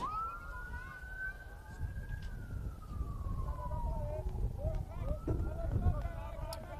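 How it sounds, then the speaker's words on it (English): A wailing siren rises and slowly falls in the distance on Main Street, then another siren tone joins, heard over low street rumble and crowd noise at a varsity baseball game. "Referencing the sirens we're hearing out on Main Street right now"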